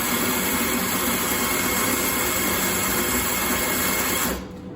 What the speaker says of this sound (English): lock it in the clip, and it will grind for this preset amount of time.